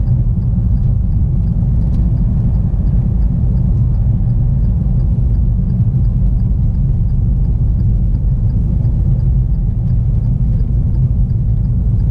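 Car engine held at high revs during a driving test, a loud, unbroken low rumble and drone that stays steady throughout with no voices.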